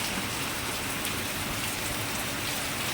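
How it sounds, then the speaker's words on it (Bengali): Steady rain pours down continuously, a dense even hiss with scattered drop patter close by and no voices. "বৃষ্টি হচ্ছে"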